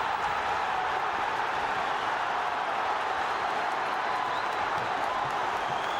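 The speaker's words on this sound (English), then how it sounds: "leads the applause as David Unsworth drives in the 50th and potentially most important goal of a long, long career" Stadium crowd applauding and cheering steadily after a goal at a Sheffield United versus Wigan Athletic football match, a dense, continuous wash of clapping and roar with no break across the whole stretch.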